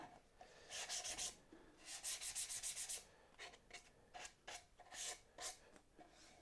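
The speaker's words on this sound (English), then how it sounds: "I'm going to just give it a little bit of a sand on it, take the burr off the edge of that." Sandpaper rubs a timber edge to take off a burr during box-making, in short quick scratchy strokes grouped into bursts with pauses, close but fairly quiet.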